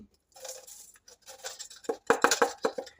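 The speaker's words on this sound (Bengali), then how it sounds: "তো আমি এখানে বালু দিয়ে দিচ্ছি।" Dry sand poured into a plastic bottle water filter gives a scratchy, gritty rustle that builds into a run of sharp ticks and taps as grains strike the plastic, close and moderately loud.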